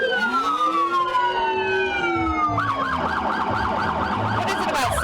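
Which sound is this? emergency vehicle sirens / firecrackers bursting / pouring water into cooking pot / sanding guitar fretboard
emergency vehicle sirens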